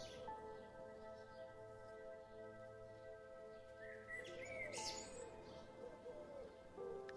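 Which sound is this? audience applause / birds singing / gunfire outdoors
birds singing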